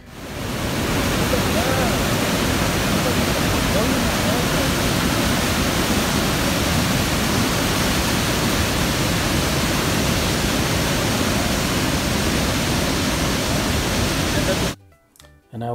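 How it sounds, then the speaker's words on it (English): Waterfall at Yellowstone National Park, seen from the basin at its top, gives a loud, steady roar of a huge volume of rushing water. The roar fills the clip without a break, then cuts out abruptly near the end. "you can see the volume, how the volume of water is so big, so strong"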